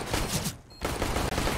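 Shootout in CS:GO, dense rapid rifle fire crackling loudly, breaking off briefly before resuming in a fast continuous volley.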